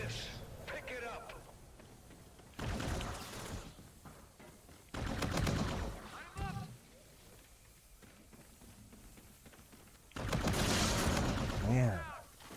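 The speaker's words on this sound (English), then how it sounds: "Stop shooting. I thought he was dead. I was like, that's enough bullets." Bursts of loud gunfire from a video game shootout come in three separate volleys, each lasting about a second or two, between stretches of people talking casually over quieter game sound.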